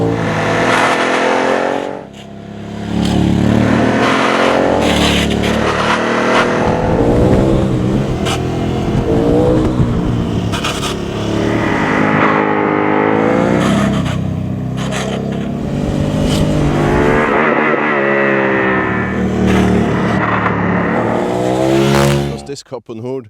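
A 2013 Aprilia Caponord 1200 motorcycle engine hums continuously while riding on the road, its pitch rising and falling with throttle changes and loud throughout, with a brief dip near the start.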